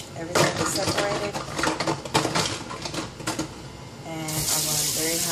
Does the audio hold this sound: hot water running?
yes